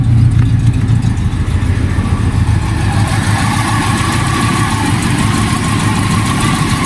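A 1992 Toyota Kijang Super Montana's engine idles steadily up close, a smooth continuous low rumble with an even hum and no breaks.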